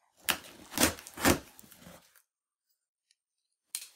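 A box of Warhammer miniatures is cut open with a blade, giving three rasping slicing strokes close up, then quiet and a brief click or rustle near the end.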